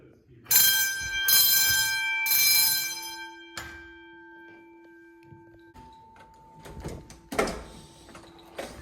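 A fire alarm bell in a middle/elementary school on a Notifier 640 system rings in loud bursts during an alarm test, then cuts out, with other tones, clatter and faint voices around it.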